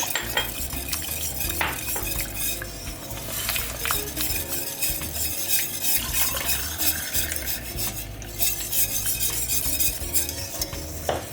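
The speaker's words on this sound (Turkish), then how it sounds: "İyice karıştır, karıştır." Milk whisked into flour for a lasagna béchamel, a steady swishing stir with light clinks of a utensil against the pot, close and continuous with soft sizzling underneath and no talking.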